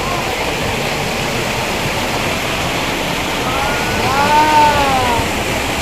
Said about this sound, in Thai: เราเข้ามาในน้ำตก